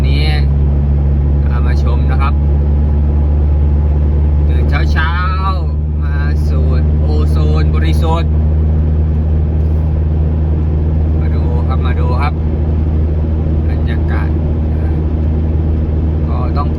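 Cars travel along a fog-covered highway in Roi Et, Thailand, with headlights on; a steady low engine and road rumble heard from inside a moving vehicle runs throughout while someone talks over it.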